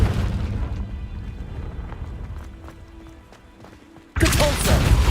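Confringo explosion spell in Hogwarts Legacy: a sudden loud blast erupts near the end, breaking in after several seconds of quieter rumbling game ambience with faint ticks.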